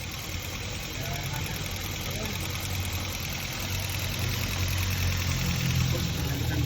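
A 2010 Ford Focus engine idles with a steady low mechanical hum and slight vibration, running continuously at a moderate level with no talking.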